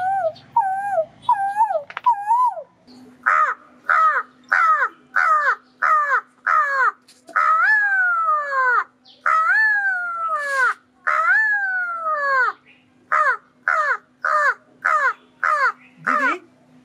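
A crow caws in a long series of harsh, loud calls close by, first a few single caws, then rapid regular bursts that keep repeating over a faint steady hum, with no voices.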